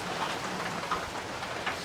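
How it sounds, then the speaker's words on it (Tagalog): Heavy rain pours on a cabbage farm, a constant close, loud hiss of drops with no pauses and no voices. "Kaso naabutan tayo ng malakas na ulan."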